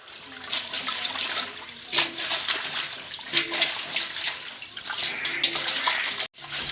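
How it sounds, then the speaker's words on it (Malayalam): Freshly picked spinach greens are washed in water, a continuous close splashing and sloshing with bursts of swishing throughout. "ചീര പറിച്ചുകൊണ്ട് വന്ന് നമ്മൾ നന്നായിട്ട് കഴുകി എടുക്കുവാണ്"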